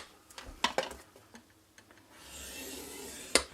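A tool is drawn along cardstock to score lines for a paper milk-carton craft. Close, scraping strokes come in short bursts, followed by a longer rasping pass and a sharp tap near the end.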